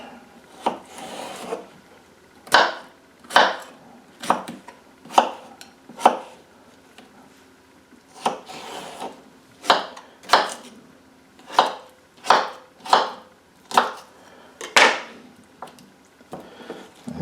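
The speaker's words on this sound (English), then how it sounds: "bring you back when I have finished chopping up cucumbers" Cucumbers being chopped on a wooden board for mustard pickles: a string of crisp knife strokes landing in uneven bursts, some spaced apart and some in quick runs, moderately close with no talk.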